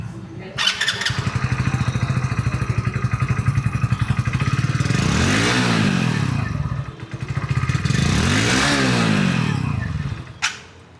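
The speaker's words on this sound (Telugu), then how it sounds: "సో ఎగ్జాస్ట్ సౌండ్ కూడా ఒకసారి వినిపిస్తుంది చూడండి." A 2026 Hero Passion Plus commuter motorcycle idles close by with a steady exhaust thump, then revs up and back down twice in smooth swells, loud and clear.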